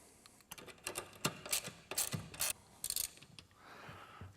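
Hand tools tightening bolts on a Jeep TJ seat mount and slider: close, sharp metallic ratcheting clicks and clanks in uneven bursts, fairly quiet, with no talking.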